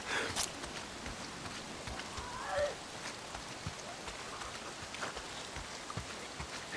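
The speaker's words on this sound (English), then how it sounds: "Oh, goddamn rain. If it's not the freaks, it's the goddamn rain." Steady rain in the video game Days Gone, an even patter with scattered drop ticks and a few soft thuds, fairly quiet and continuous.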